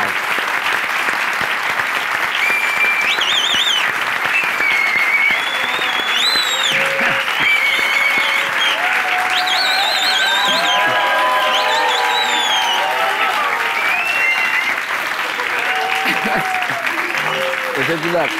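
Studio audience applause on a Turkish comedy show, loud and sustained for a long stretch, with cheering and whoops mixed in and voices over the top.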